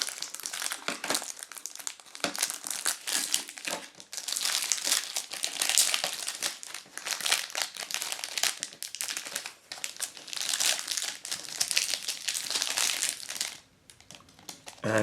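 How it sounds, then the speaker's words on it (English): Biodegradable film wrapper peeled open from an 80-gram fairafric 72% dark chocolate and milk bar, giving a long run of close, loud crinkling and crackling in bursts with brief pauses, no talking. "just peeling open this biodegradable film"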